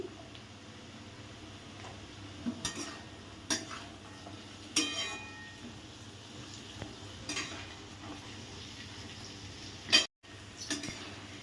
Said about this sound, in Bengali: সব রকম সবজি দিয়ে, মটরশুঁটি দিয়ে আমি ভেজে নিলাম